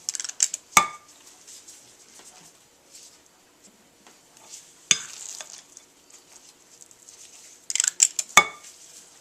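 Meatballs being scooped and rolled with kitchen utensils: sparse sharp clinks and taps of metal against a bowl or dish, clustered at the start, middle and end, with soft handling noise between and no talk.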